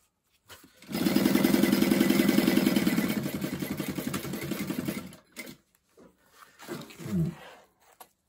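A sewing machine top stitches along the bottom of a fabric bag, a steady fast whirring run of about four seconds that slows and stops, followed by a few short clunks and fabric handling.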